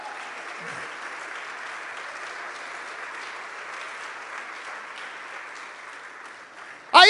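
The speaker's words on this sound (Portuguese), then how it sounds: "Quem crê nisso, dá uma salva de palmas ao Senhor." A church congregation claps in praise, a steady, dense wash of applause that lasts through almost the whole stretch, with a louder sound cutting in at the very end.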